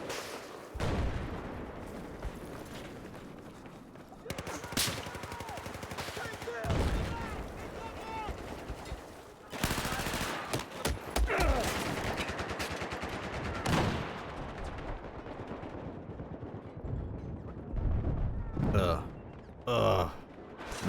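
Bursts of rooftop machine-gun fire in Battlefield multiplayer, loud rapid volleys broken by pauses and scattered single shots, with other battle noise around them.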